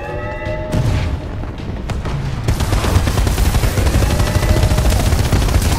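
A machine gun firing in Titanfall 2, rapid continuous bursts of gunfire with booming impacts that build into a dense unbroken stream, loud and close, following a brief stretch of game music.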